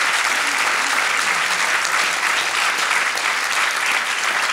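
Applause from a seated audience at a school success gala, a full, steady patter of many hands clapping at once, bright and unbroken for several seconds.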